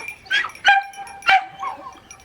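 A hyperactive female dog barks in a garden setting: a few sharp, close yips and barks in quick succession, with no talking.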